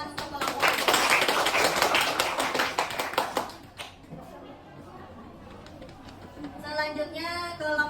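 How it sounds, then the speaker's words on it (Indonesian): A classroom audience claps for a student group: about four seconds of dense, close applause, then the room goes quieter and a voice speaks. "Ya, beri tepuk tangan untuk kelompok."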